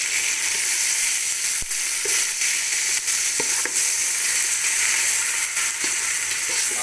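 Green chillies, onion and garlic-ginger paste sizzle steadily in a hot pan while cooking an aloo kaddu curry, a dense continuous crackle with occasional sharper pops and stirring clatters, close and without speech.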